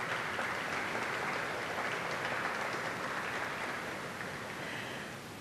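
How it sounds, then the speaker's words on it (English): At a sustainability recognition awards ceremony, an audience claps in a continuous, fairly distant wash that holds evenly and then thins slightly toward the end, with no talking over it. "I want to get you all to give yourselves a round of applause"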